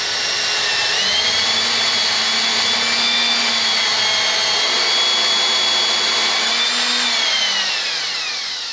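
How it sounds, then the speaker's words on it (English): A power drill whines steadily as it bores a pocket hole into wood stock, pitch rising as it speeds up, holding a loud continuous drone, then winding down at the end. "start slowly rotating, and then we're going to speed it up and slowly plunge the drill into our stock"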